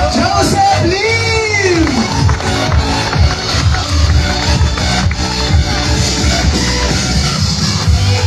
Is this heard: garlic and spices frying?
no